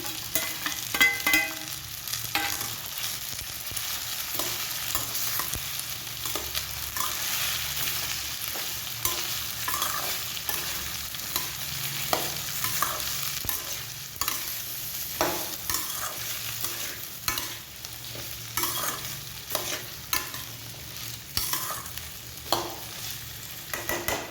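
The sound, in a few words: cut okra frying and being stirred in a pan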